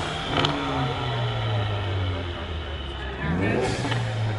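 A Mustang engine in a racing video game cold-starts and revs, giving a steady loud engine drone with a rising surge near the end.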